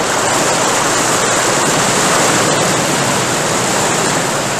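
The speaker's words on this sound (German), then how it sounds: "Sie waren in einen Wasserfall geraten, der tief, tief ins Erdinnere hinunterstürzte." A roaring waterfall plunging deep into the earth, staged as an audio-drama effect: a loud, steady, dense rush of falling water that fills the whole moment without a break.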